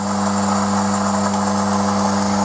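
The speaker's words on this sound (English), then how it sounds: "Turn this noisy pump off." A vacuum pump used for stabilising wood with resin runs steadily and loudly, a constant mechanical drone with a strong low hum and hiss, with no talk over it.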